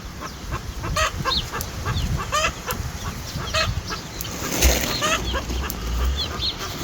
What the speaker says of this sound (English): But these are our bantams, but they are loving hiding out back here.